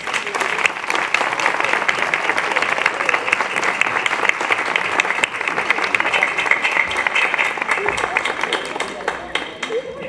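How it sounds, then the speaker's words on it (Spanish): Sustained applause from an audience at the opening proclamation of a traditional market festival, dense steady clapping filling the whole stretch at a constant loud level. "Un aplauso para ella."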